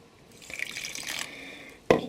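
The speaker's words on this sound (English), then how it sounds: "Just keep adding a little bit of water as you go." Water trickles from a tap into a grout mix for a tile wall, a steady light pour lasting about a second, then a louder splash near the end.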